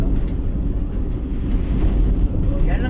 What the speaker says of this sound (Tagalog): Dito kasi bundok masyado, talagang lakas ang hangin dito.